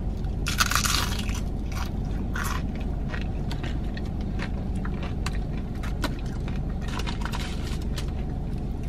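Crisp crunching bites into a Taco Bell Cantina taco with sour cream and chipotle sauce, with sharp crackles near the start and again toward the end over a steady low background hum.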